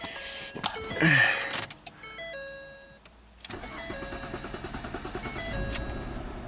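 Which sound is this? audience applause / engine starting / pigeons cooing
engine starting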